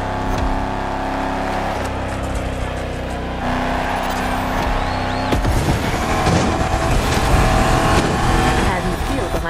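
Shelby GT500 engine in The Crew Motorfest, a loud, steady engine drone that rises and roughens partway through as the car speeds up, with someone talking over it.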